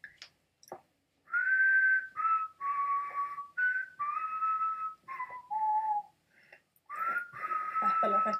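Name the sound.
person whistling Can You Feel the Love Tonight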